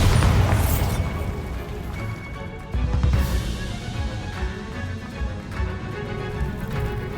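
Bombarda spell explosion in Hogwarts Legacy, a loud booming blast at the start followed by a second deep burst and rumbling debris that trails off into a lingering low roar.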